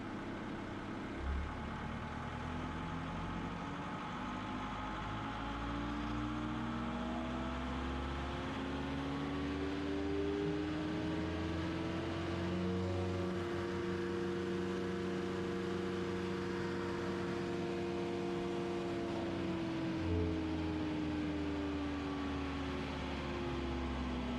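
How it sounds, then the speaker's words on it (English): A DYNA rental machine's engine running steadily, a loud continuous droning hum whose pitch climbs slowly then levels off as it is brought up to maximum RPM, with no talking. "After the engine is started, let it run for a couple minutes. Hit the rapid twice for the maximum RPMs."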